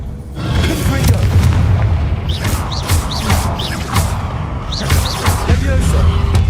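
The Confringo blasting spell in the Hogwarts Legacy game sets off heavy booming explosions and crashing debris, loud and dense throughout, with whooshing spell effects cutting in repeatedly.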